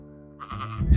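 A sheep bleats close by on open moorland near a river, a short wavering cry that rises in loudness at the end of the moment.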